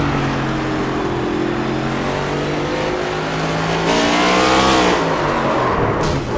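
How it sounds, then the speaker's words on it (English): In a sim racing game, a race car spins its wheels while exiting a corner, its engine note rising and wavering in loud, continuous revving with a harsh burst near the end, no voices. "The wheel spin, it sounds like to me, as he exits the corner"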